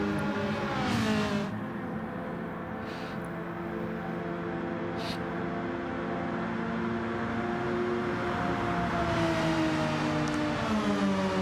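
Porsche race cars lapping Spa-Francorchamps in a racing video game, a steady continuous engine drone with harmonics rising and falling through gear changes, fairly loud and unbroken, with no talk.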